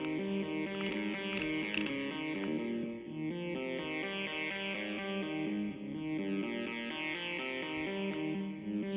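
A Woovebox synthesizer plays a sustained, harmonically rich tone whose pitch wobbles quickly under fast LFO modulation, steady and fairly loud for the whole stretch with no voice.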